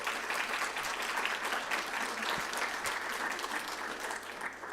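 Audience applause at a youth mental health and wellbeing event, a dense steady clapping from a crowd that lasts the whole time without letup.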